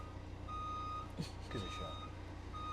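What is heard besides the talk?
beeping sound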